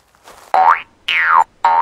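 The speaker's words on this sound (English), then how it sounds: "The Easter bunny is hopping up and down." Three loud, springy cartoon boings for an Easter bunny hopping up and down, each a quick sliding twang separated by short gaps, with no talking.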